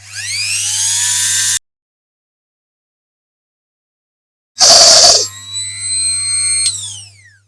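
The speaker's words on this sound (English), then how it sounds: "Then straight on with the multi-tool again." A rotary multi-tool works on a diecast Dinky Toys Austin van, giving a high, close whine that winds down to silence, then restarts with a harsh grinding burst before settling into a steady high whirr that fades out.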